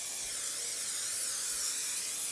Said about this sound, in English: And then I am going to spray on the top with butter,